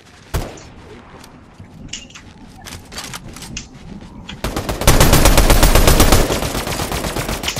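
Gunfire in a Fortnite trio squads match, starting with a loud single shot, then scattered sharp bursts, building into a dense, loud sustained automatic volley near the end.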